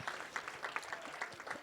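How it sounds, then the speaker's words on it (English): Audience applause at a live-streamed media conference, a steady patter of many hands clapping for the whole stretch at moderate volume. "Big round of applause for Ross"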